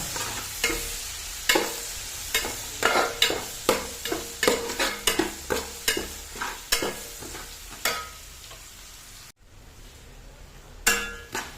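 Dried red chillies frying in hot oil for a sardine pickle, a steady sizzle broken by a run of sharp stirring clinks and scrapes against the pan, close and fairly loud, with a brief drop near the end.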